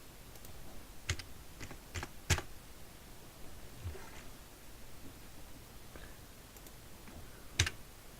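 Computer keyboard typing in short irregular bursts of clicks, fairly close, with quiet pauses between the keystrokes.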